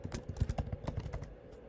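Typing on a computer keyboard, a quick run of close, crisp key clicks in an uneven rhythm that trails off after about a second and a half.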